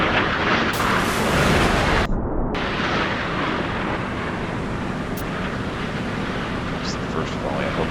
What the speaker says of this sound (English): We can see the missiles launching